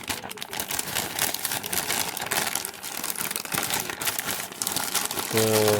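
A parcel's plastic packaging crinkles and rustles up close in irregular bursts, with a brief tonal sound near the end.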